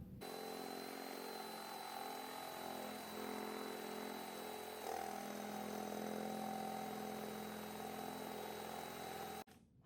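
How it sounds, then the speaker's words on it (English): A power drill bores into two small blocks of wood, running continuously and steadily at close range for almost ten seconds before it abruptly stops. "I want to make sure my drill is going in the direction of my two little blocks of wood"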